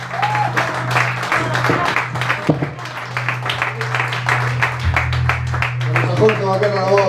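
A concert audience at a band's show in a cultural café applauds with dense, sustained clapping. A steady low hum sits beneath it, and a voice speaks over the end.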